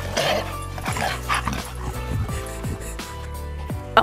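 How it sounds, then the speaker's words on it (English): A dog gives a run of short, high yips and whimpers, several quick broken cries in an uneven rhythm, close and fairly loud in a quiet indoor room with no talk. "This is the unathletic dog."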